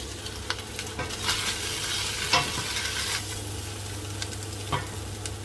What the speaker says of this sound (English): I think that our beef is now starting to really brown.